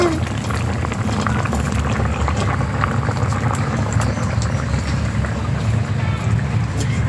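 A Bengali folui fish curry with shola kochu and slit green chillies boils in a pan, giving a dense continuous bubbling roar that stays loud and steady throughout.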